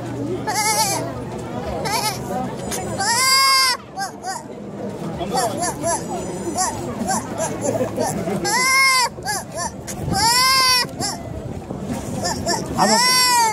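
A girl mimics a billy goat with several loud, quavering bleats spaced through the stretch, with her talking and chatter between the calls.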